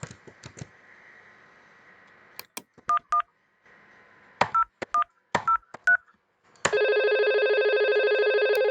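Telephone tones from a Packet Tracer VoIP simulation: mouse clicks and short paired dialing beeps interrupt a steady dial tone, then a loud continuous ringback tone begins and holds, with no voices.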